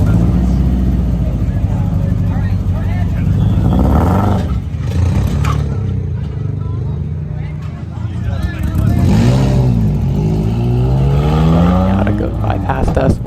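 A manual race car in an endurance race restarts after stalling, its engine droning loud and close, then revving with a rising pitch as it pulls away while a person talks over it.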